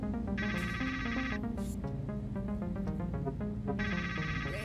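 A phone rings in the VR video game Trover Saves the Universe, two bursts of bright electronic ringtone with a busy tonal game music bed playing underneath throughout.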